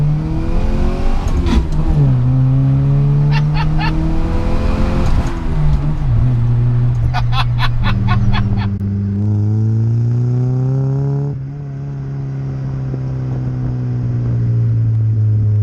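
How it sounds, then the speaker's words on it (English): A 1989 Austin Metro with a stage 2 engine accelerates hard through the gears on a country B road, its engine note climbing repeatedly, dropping sharply at each gear change, then settling into a steady drone, loud and close. "we'll do a quick gear ratio acceleration down a B road"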